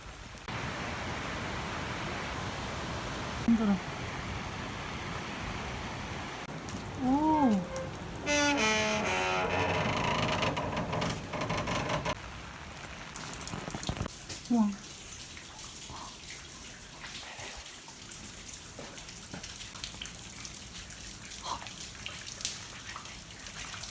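Rain falls steadily during a walking trip in Yeongju, a constant hiss of water heard throughout, with occasional voices, brief whistling tones and other faint sounds over it.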